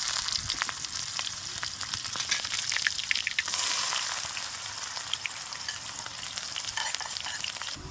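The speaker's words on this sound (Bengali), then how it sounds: "এর মধ্যে দিয়ে দিচ্ছি পেঁয়াজ কুচি" Chopped onions frying in hot oil with asafoetida while a goat curry is cooked, giving a steady close sizzle and crackle throughout with occasional stirring scrapes and no talking.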